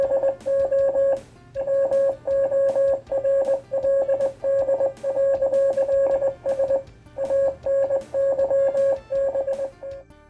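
A Hasbro HasLab Ghostbusters ghost trap toy plays a Morse code effect: clear, steady electronic beeps in rhythmic bursts of dots and dashes, repeating with short pauses over a low background hum.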